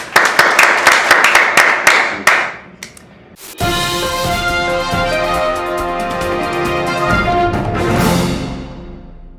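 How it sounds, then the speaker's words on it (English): An audience claps for a school honoree being recognized during morning announcements, a burst of scattered applause that breaks off quickly before a steady tonal sound takes over. "Can you please take a moment and clap for that man?"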